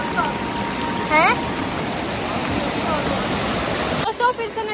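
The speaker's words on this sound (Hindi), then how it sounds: "दोस्तों फिर से नदी आ गई" A small river stream flowing near Patna Waterfall on the Neelkanth Road outside Rishikesh, heard as steady broadband rushing water close by, with a brief chirping bird call partway through and a change in the water sound near the end.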